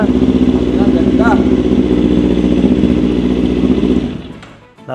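Big bike motorcycle, swapped in for a scooter, rumbling loudly at a steady rev close by, with a brief voice over the engine before the sound cuts off near the end.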